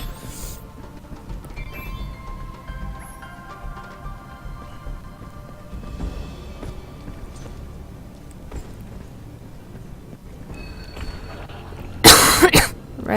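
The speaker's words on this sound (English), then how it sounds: "Sorry for the cough." A person coughs once near the end, a sharp, loud burst close to the mic, after a long stretch of quiet game ambience and soft music while playing the game Dust.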